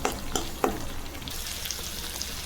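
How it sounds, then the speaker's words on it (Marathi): Spice masala for a paneer dish is sautéed in oil, a dense continuous sizzle with a few sharp stirring knocks early on before settling into an even crackle. "हे सर्व मसाले आता परत एकदा थोडं 2 मिनिटं परतवून घेऊ"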